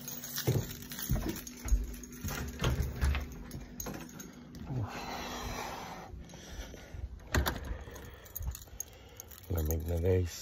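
Keys jangle in several brief metallic bursts outdoors in cold weather, close by, mixed with handling clicks and a person talking intermittently.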